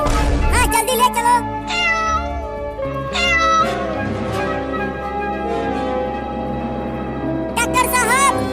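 A cartoon kitten that has been run over by a car on the road meows several times, loud and close, with cartoon background music underneath.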